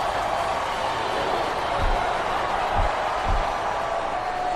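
A wrestling arena crowd in WWE Smackdown vs Raw 2007 roars in a loud, steady wash of cheering, punctuated by a few deep thuds from the ring.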